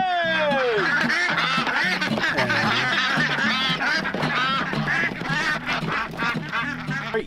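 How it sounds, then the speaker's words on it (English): A flock of ducks on a farm quacks loudly and continuously, many overlapping calls forming a dense, close chorus with no pauses. "release the Quackers"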